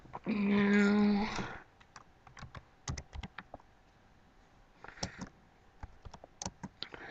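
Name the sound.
typing on a computer keyboard to enter coordinates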